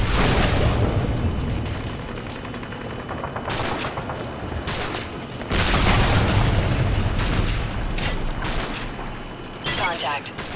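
Call of Duty Modern Warfare 3 combat on an India mission, with an A-10 air strike called on a tank in a street: continuous loud booms, gunfire and explosions, shouted radio voices layered over the battle noise.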